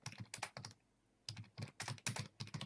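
Fingers typing a short message on a computer keyboard, producing close, crisp bursts of rapid key clicks separated by a brief pause, with no speech.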